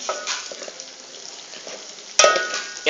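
Onions and mint stirred and frying in oil in a pan, a steady soft sizzle with scraping strokes, then a sharper clatter of the spoon against the pan near the end.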